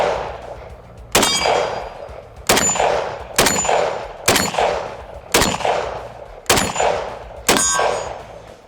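Seven sharp rifle shots from a Beretta AR-70 (SIG PE90) ring off a steel target, each crack followed by a bright metallic clang and short decay, fired at a steady semi-automatic pace outdoors with no talking.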